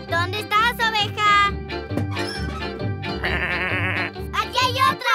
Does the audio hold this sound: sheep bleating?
yes